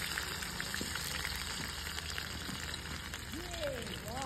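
Cumin seeds and green chili fry in hot oil for an aloo methi dish, producing a steady, close, continuous sizzle with a few faint higher tones near the end.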